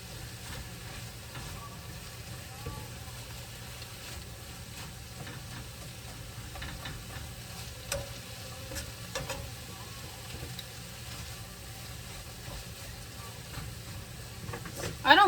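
Vegetables frying in a pan for surf and turf pasta, a low steady sizzle with faint stirring clicks throughout, a louder scrape near the end, and a voice speaking at moments over the cooking.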